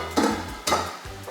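Silver beet and noodles cook in a skillet with no oil, giving a soft sizzle with two brief clatters of utensils against the pan, close and alone.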